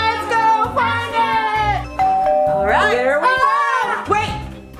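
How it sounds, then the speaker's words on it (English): A chiming doorbell plays a melodic sequence of tones, loud and close, with a long ringing note sustained partway through. "There's the doorbell."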